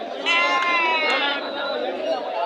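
Goats and young kids bleat amid a busy crowd at a weekly Saturday goat market in Akkirampura, Koratagere taluk, Tumakuru district. Several overlapping bleats rise over constant chatter and voices from the crowd.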